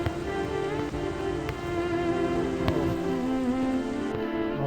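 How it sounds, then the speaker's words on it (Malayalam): Heavy rain pours steadily during a road trip through Wayanad and Thamarassery, a dense continuous wash of falling water that stays loud and even throughout with no voices. "നല്ല മഴയാണ് ഗൈസ്."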